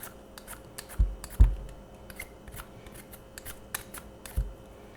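A worn vegetable peeler scrapes skin off a vegetable in short, crisp strokes, a few stronger ones standing out among lighter scratches, close and quiet with no talking.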